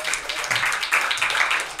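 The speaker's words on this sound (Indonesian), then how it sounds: "Boleh beri tepuk tangan sekali lagi" An audience claps for a candidate for faculty senate chair at a university integrity hearing, a short, dense burst of applause indoors.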